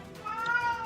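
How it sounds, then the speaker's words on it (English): A cat meows in a short, rising and falling call with a clear tonal pitch, heard close and alone. "I was wondering whose freaking cat that was."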